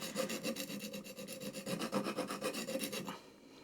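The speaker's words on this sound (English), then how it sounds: "Now this is on my 400 grit stone, and then I'm going to come down and I'm going to do that again." A hand plane blade is sharpened on a 400 grit stone, giving a close, steady rasping scrape repeated in quick regular back-and-forth strokes for about three seconds before it stops.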